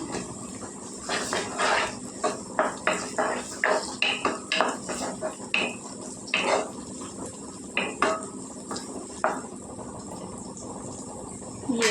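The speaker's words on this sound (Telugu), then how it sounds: "సన్నగా కోసం ఉల్లిపాయలు వేసుకుంటున్నాను" Thinly sliced onions dropped into hot oil in a pan, with a soft sizzle under repeated clinks and scrapes of a spoon stirring against metal, close and fairly loud, no talking.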